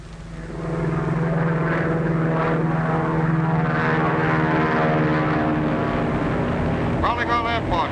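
A brown high-wing propeller monoplane drones steadily overhead, a loud, sustained engine hum with a low pulsing buzz, under some talk near the end.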